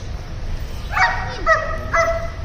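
A German Shepherd gives three short, high barks at even intervals, close by over a low background rumble.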